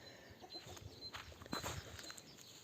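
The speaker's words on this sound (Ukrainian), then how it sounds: "у нас там кури" Chickens cluck softly and intermittently, faint and somewhat distant, with a few light rustling steps.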